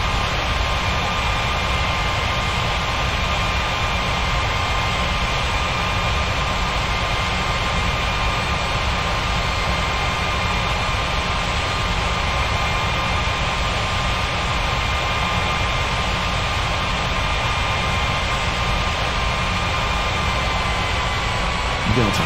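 A jet airliner landing on runway 27 in the Unmatched Air Traffic Controller game gives a steady, loud engine roar that stays continuous and even throughout, with no pauses.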